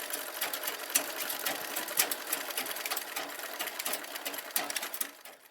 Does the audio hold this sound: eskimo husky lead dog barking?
no